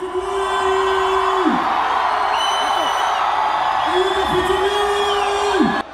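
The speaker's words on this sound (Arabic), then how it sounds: "صراخ الحاضرين وتفاعلهم مع المغنيين يعلو الخيمة" Concert audience inside a tent shouts, whoops and cheers loudly and continuously, with long sustained yells rising and falling over a dense crowd roar.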